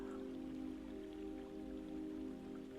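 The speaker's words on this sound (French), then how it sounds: "Face à la pluie, vous n'avez pas cherché à fuir" Steady rain pours down in a calm meditation soundscape, a continuous soft patter of drops on surfaces with a low tonal drone underneath, quiet and even throughout with no voices.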